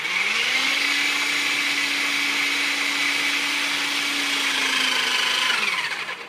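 A Bramley PB2-E electric hydraulic pipe bender runs steadily as it bends a pipe, a loud continuous motor whine with a constant low hum that holds for about six seconds and then tapers off, with no talking.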